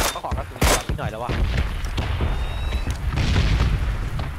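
Explosions going off right beside the player in a shooter video game, two sharp loud blasts early followed by rumbling gunfire and combat noise, with people talking over it.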